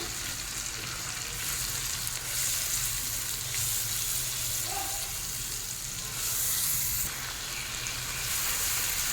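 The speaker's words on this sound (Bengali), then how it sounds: "এখন তেলের মধ্যে দেবো পেঁয়াজ কুচি, কাঁচা লঙ্কা। পেঁয়াজ খুব ভালোভাবে ভেজে নেব।" Chopped onion with green chilli frying in oil in a pan gives a dense, loud, continuous sizzle that swells and settles with stirring, close and uninterrupted.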